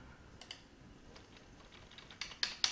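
A computer keyboard's Delete key pressed several times in a row during photo editing in GIMP: faint, sparse clicks that grow sharper and louder toward the end, with no talking.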